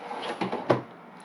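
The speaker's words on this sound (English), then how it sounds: "I'll open this drawer so you can see" A deep drawer in a hotel room slides open with a short scraping rumble, then knocks to a stop, heard close and alone.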